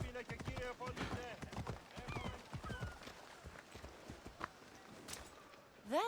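Horse hooves clip-clopping in the ancient Greek world of the Assassin's Creed Odyssey video game, a steady rhythmic beat of fairly close footfalls heard beneath speaking voices, with a soft whinny-like sweep near the end.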